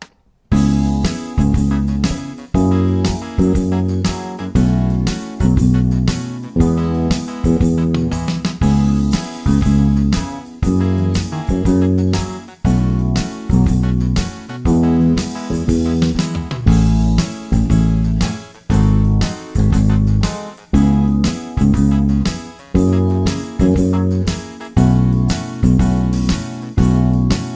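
Bass guitar plays the groove of a song over a full backing track, a steady loud rhythmic bass line with repeating phrases throughout.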